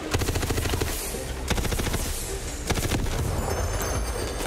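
Rapid, sustained gunfire from the video game Tiny Tina's Wonderlands, with dense bursts of shots rattling almost without pause and a few brief gaps between volleys.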